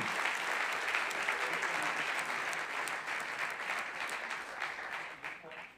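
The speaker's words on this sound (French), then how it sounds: "On l'applaudit très fort. Bravo, Adriano" Audience at a regional sports merit awards ceremony applauds winner Adriano, loud continuous clapping that holds steady and then begins to thin out near the end.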